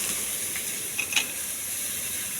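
Onions sizzling in hot oil with curry leaves in a heated pan, a steady close hiss with a few brief crackling pops, no talk.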